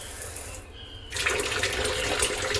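Water pours from a kitchen tap, starting abruptly after a short lull and continuing as a steady, close hiss and splash into the sink.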